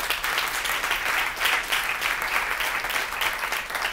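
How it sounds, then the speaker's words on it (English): Steady applause from an audience at an education talk on Mexican American studies fills the whole stretch, a dense even patter of many hands clapping with no voices over it. "Let's hear it for Jeff Biggers."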